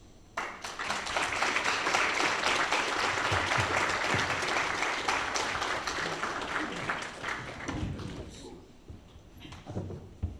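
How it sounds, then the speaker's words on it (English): Audience applause at a live community workshop on deep sea mining, following a lecture: dense, sustained clapping from a roomful of people that swells quickly, holds steady for several seconds, then thins out toward the end. "Let's get a round of applause one more time, please, for Dr. Drazen."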